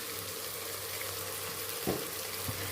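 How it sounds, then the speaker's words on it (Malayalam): Ghee hitting a hot pan of beef vindaloo gives a steady sizzling hiss throughout, with a brief splash-like clatter near the end. "ഈ സമയം ഇതിലേക്ക് 1 ടീസ്പൂൺ നെയ്യും കൂടെ ഒഴിച്ച് കൊടുക്കാം."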